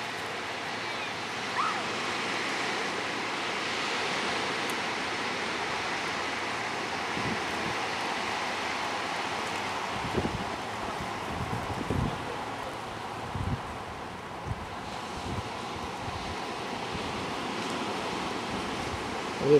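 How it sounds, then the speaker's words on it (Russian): Wind blows steadily across a beach on Ko Lanta, Thailand, as a broad, soft hiss mixed with distant surf, and later gusts buffet the microphone in low thumps. "Ветер дует"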